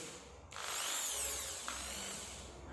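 A handheld power drill runs up and spins at full speed for a couple of seconds, with a steady high whine that rises and then eases slightly, close and alone with no talk.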